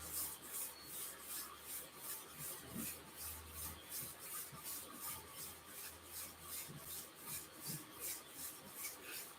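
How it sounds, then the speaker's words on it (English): Palms rubbing together back and forth during a gentle yoga session: a close, soft, even swishing friction repeating in a steady rhythm of quick strokes, with no talking. "slowly rub your hands back and forth"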